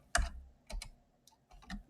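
Keys clatter on a computer keyboard during a Haskell live coding session, a few quick separate clusters of close, clicky keystrokes with short pauses between them and no talk.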